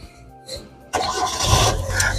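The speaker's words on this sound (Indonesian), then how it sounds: "Sekarang kita coba nyalakan mobil." A 2003 Hyundai Accent Verna 1.5 GLS with manual transmission cranks briefly after a quiet moment and fires up, settling into a loud, steady idle close by.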